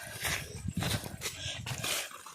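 Dog in a village setting, sounding in a few short close barks or yelps spread over a couple of seconds, with no talk over it.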